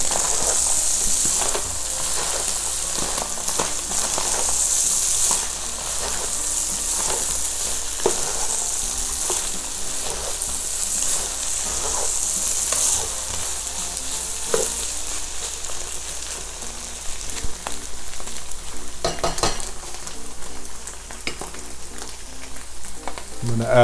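Chicken bopis sizzles loudly in annatto oil as it is stirred, a constant crackling fry with scraping clicks of the spoon against the pan throughout.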